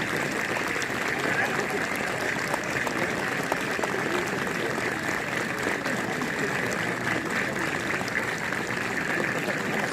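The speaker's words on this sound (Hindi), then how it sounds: "ये तालियां लग रहा है भट्ट जी के लिए लग रही हैं" Crowd applause at a UP Police passing out parade, a continuous, even wash of clapping from a large outdoor gathering sustained throughout, with a voice talking over it.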